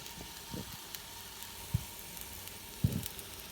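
Food fries in a hot pan seasoned with coconut oil and caramelized onion, a soft steady sizzle broken by a few low thumps and clatters, quiet and close.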